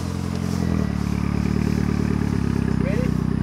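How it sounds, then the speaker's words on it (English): A widebody Mitsubishi Evo X engine runs with a rough, pulsing idle that rises slightly, loud and close, while people talk over it. "maybe when you rev it up, you can rev like a low RPM, mid range, and then like one"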